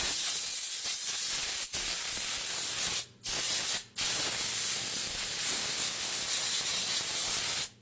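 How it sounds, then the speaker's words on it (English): A compressed-air blowgun hisses loudly at close range while cleaning the engine of a Ford 661 tractor, with steady bursts of blowing broken by two brief pauses. "We'll get in here with a blowgun."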